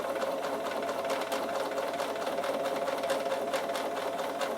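Bernina sewing machine stitching leather runs in a steady, continuous mechanical whir with fast rhythmic needle clatter, close and uninterrupted throughout.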